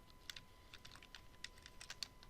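Quick, irregular keystrokes on a computer keyboard while C++ code is edited, light clicks coming in small bursts with short pauses, fairly close and quiet with no talk over them.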